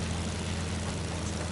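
A video-game airplane engine, a steady low droning hum with a constant buzzing tone, held close and uninterrupted for a moment with no talk over it.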